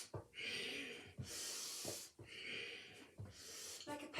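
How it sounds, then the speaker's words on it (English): Vigorous rhythmic yoga breathing in cat pose, a close, quiet series of forceful hissing exhales and inhales pumped out in steady alternation like bellows. "Start to pump out the breath as you come into cat."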